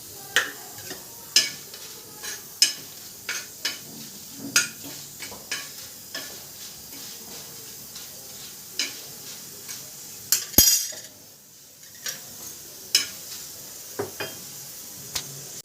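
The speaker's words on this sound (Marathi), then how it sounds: "आता मिरच्या भाजून घेते मी" Green chillies dry-roasting in a pan, turned with a utensil in regular scraping and clinking strokes about once a second over a faint background sizzle, with one louder clatter midway. No talk.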